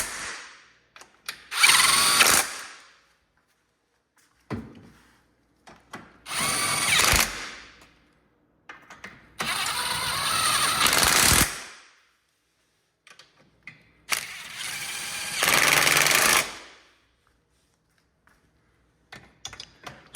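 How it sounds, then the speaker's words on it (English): Power tool driving and tightening bolts on a 2013 Audi S8 frame during a rebuild, four loud close bursts of whirring each lasting a second or two, separated by quiet pauses with faint clicks. "we'll go ahead and tighten these bolts up"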